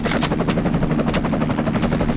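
A helicopter in the video game The Suffering drones loudly with a rapid, steady pulsing beat that holds for the whole stretch, with no talking over it.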